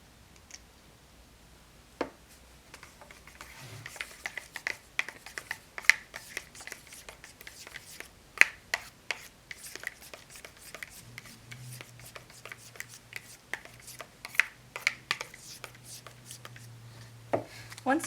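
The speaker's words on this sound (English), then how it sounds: "I'm going to stir it so that it completely mixes into the conditioner" A utensil stirs conditioner and food coloring in a mixing bowl, making soft scraping and clicking taps that grow busier and more continuous toward the end, with a low faint hum underneath.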